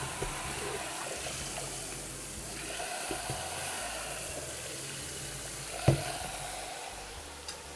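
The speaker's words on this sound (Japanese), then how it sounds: "卵ってすぐ火が通っちゃうから、すぐこっちで水でやらないと。" Tap water runs into a cooking pot to cool freshly boiled eggs, a steady splashing stream with a few clunks of the pot, fairly close and without talk.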